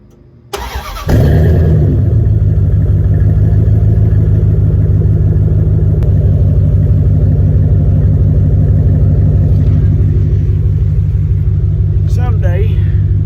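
A car engine cranks and catches about half a second in, then settles into a loud, steady, rumbling idle that runs uninterrupted for the rest of the clip.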